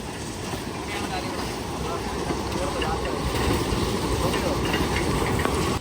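A sugar cane train loaded with cane rumbles past on a narrow-gauge cane railway in Queensland, Australia, with a steady, heavy roar and clatter that holds constant throughout, loud and close.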